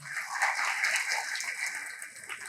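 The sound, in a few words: applause at a political rally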